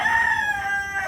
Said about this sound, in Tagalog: Ingat-ingat sa paghawak ng manok.